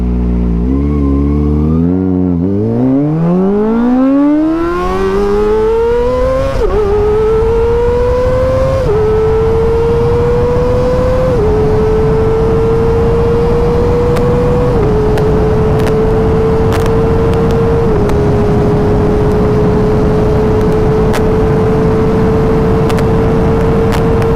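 A Kawasaki ZX25R motorcycle accelerates hard in L mode with traction control off, its engine note climbing steeply through several gear changes, each marked by a brief dip, then holding a loud, steady high whine without any voices.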